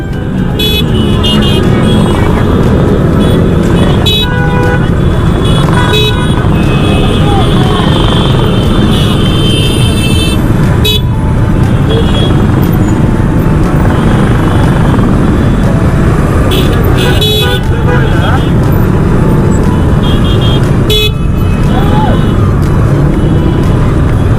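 Many motorcycles ride together in a December victory rally, a loud, continuous mass of engine drone and revving that stays close throughout, with people talking intermittently over the noise.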